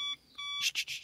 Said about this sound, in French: Ça, c'est le bruit des clignotants.